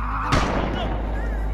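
A loud sniper gunshot sound effect cracks out sharply, followed by a brief rumbling tail and a second faint crack at the end, over a thick background.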